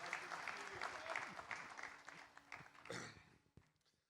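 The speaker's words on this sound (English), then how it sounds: "we should just give her a special round of applause." A conference audience at a session on the future of financial regulation gives a round of applause, a fairly quiet, dense patter of clapping that thins and fades out near the end.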